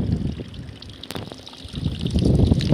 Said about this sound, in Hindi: ये पी रहे हैं पति देव जी पानी।